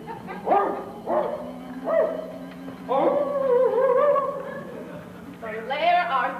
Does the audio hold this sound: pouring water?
no